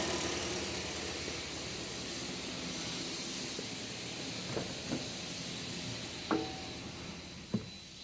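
A Toyota Corolla with a 1ZR engine idles at about 1,200 RPM, a low steady hum with a broad hiss over it, broken by a few faint clicks and knocks near the end.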